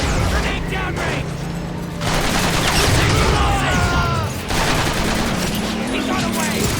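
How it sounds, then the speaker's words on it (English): Grenade blast and gunfire in the Transformers: Rise of the Dark Spark video game, a loud, busy stretch of booming bursts and clattering mechanical noise over a steady low hum, with voices speaking throughout. "Grenade downrange."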